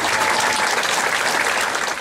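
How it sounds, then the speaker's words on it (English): Steady, loud round of applause from an audience at an evening of romance event, a continuous wash of clapping with no pause throughout. "Let's give Dale a nice round of applause"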